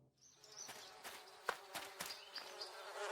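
Cartoon honey bees buzzing in quiet, separate bursts over a few seconds, a light high drone that swells and fades between soft taps, with no voices.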